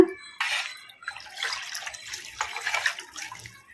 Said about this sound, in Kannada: ಅದಕ್ಕೆ ಇನ್ನು ಸ್ವಲ್ಪ ನೀರು ಹಾಕೋಣ